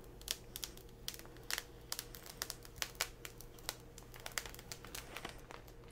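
Vinyl transfer tape peeling up off a sign, a quiet run of crackly ticks and small snaps, irregular and close, over a low steady hum.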